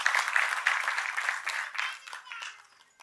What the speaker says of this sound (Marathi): जरा जोरदार टाळ्या सन्माननीय श्री दीपक केसरकर साहेबांसाठी